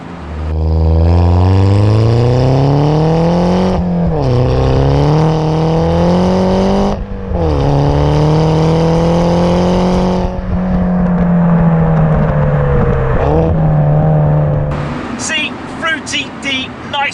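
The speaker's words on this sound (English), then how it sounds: "let's just have a listen to the engine in normal mode without the pops and bangs" A loud Mini JCW Roadster engine tuned to 270 bhp, in normal mode, revs up and down in long sustained pulls, a deep throaty rumble with brief dips between, ending in a few sharp crackles.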